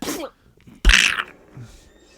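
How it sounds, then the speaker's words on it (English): Donald Duck sneezes in a Mickey Mouse cartoon: one loud, sharp sneeze bursts out after a brief quiet gap, preceded by a short cartoon vocal and followed by faint background sound. "Donald actually sneezes"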